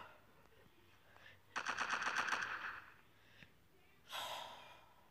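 Gunfire in the online shooter MilkChoco comes as one rapid automatic burst of about eight shots. A brief, noisy second burst follows a moment later, fairly quiet over faint breathing.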